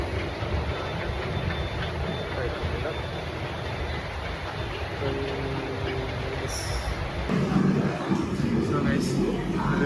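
A metro train rumbles steadily through a station, with a continuous low roar and a faint squeal, growing louder toward the end.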